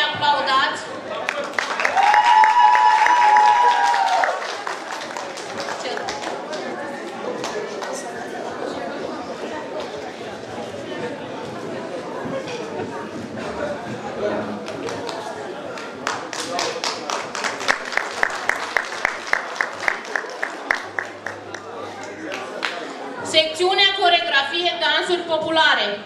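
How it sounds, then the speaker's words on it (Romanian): An audience at a traditions and customs festival in Poduri, Bacău, applauds a violinist receiving a prize, with steady rhythmic clapping under crowd chatter and a speaker's voice over a sound system. "Vă rog să-i aplaudați."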